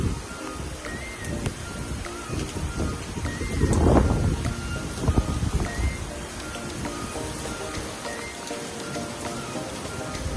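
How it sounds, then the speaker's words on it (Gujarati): Heavy rain pours steadily outdoors at a flooded adventure park, a dense continuous hiss with splashing patter that swells briefly around the middle, with no talk heard. "વરસાદ આજે વધારે છે એટલે એડવેન્ચર આજે બંધ રાખ્યું છે"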